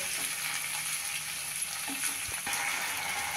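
Small diced tomato pieces sautéing in a pan for a Jain-style masala paste without onion or garlic, an even hiss of frying with a couple of soft spatula scrapes, close and steady.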